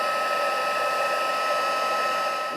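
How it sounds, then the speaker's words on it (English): A heat embossing tool blows steadily and loudly, melting embossing powder on a handmade valentine card, a continuous hot-air whir with no talk. "This is the heat tool. And we're going to heat and melt this powder."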